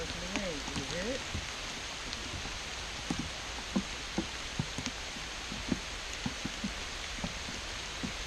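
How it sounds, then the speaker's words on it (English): Steady rain patters across a forest, with scattered louder drops hitting nearby surfaces and a bird chirping briefly near the start. "this really starts to rain. Can you hear it?"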